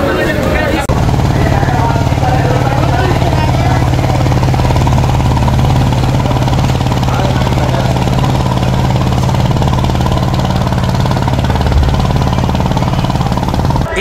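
Passenger launch MV Aparajita arriving at Ilisha ghat in stormy weather, its engine a loud, steady, close throbbing drone that runs unbroken throughout.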